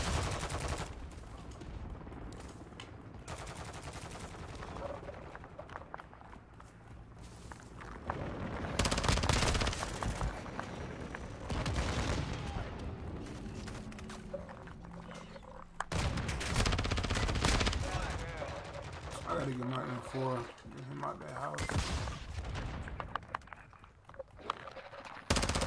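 Sustained video-game gunfire fills the scene, with automatic bursts and scattered shots rising and falling in loudness, loud and close, with heavier volleys in the middle and near the end and no talk.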